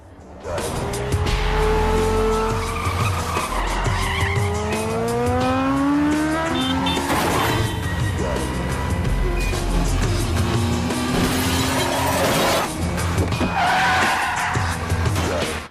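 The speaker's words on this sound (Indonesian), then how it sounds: "Han dan Tris bergegas pergi dari tempat itu dan terjadilah kejar-kejaran di antara mereka" Cars race and skid through a movie chase, engines revving as tires squeal in long rising and falling screeches, loud and close, with passing roars and engine surges throughout.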